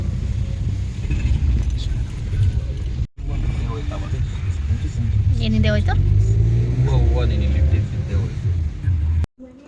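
A car setting off from home on a road journey from Bengaluru to Horanadu, its engine hum and road rumble steady under nearby talk, with brief cut-outs.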